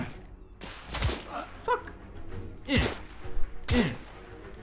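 Gunfire from a shotgun in the video game The Order, with three loud, sharp blasts spaced about a second apart, each trailing into a low boom, while a player swears once between shots.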